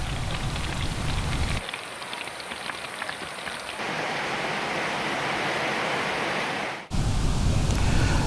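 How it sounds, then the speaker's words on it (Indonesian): Heavy rain pours steadily during flooding in Pekalongan, a dense, continuous hiss of water on surfaces that stays loud and close throughout with no voices. "Banjir akibat hujan deras yang mengguyur Pekalongan sejak Jumat kemarin"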